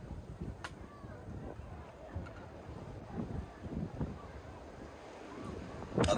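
Wind gusts across a beach at a cooking spot, blowing in low rumbling buffets against the microphone with faint surf and occasional voices underneath, ending in a louder gust.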